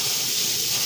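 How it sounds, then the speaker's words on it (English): Very hot water poured from a kettle onto green bananas (matoke) in a cooking pot, a steady close hissing gush lasting about a second, alone without talk. "I'm going to add hot water onto them"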